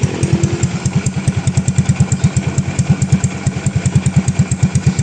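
Close, even idle of a 2009 Yamaha Mio Smile scooter with replaced parts, a rapid regular engine thump running smoothly alongside a soft CVT whine, no voices present.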